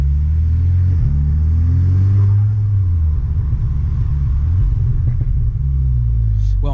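A VW Golf 6 R tuned to stage 2 revs hard, its deep engine rumble surging up in pitch then settling into a loud, close, throbbing drone that fills the whole stretch.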